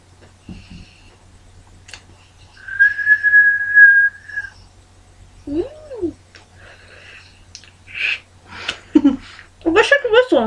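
A person tries to whistle with a mouth full of crackers, producing a thin breathy tone, a short wavering note and several sputtering, broken whistle attempts amid breaths and quiet vocal sounds.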